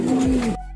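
A racing pigeon gives a single short, low coo, close and clear, ending abruptly.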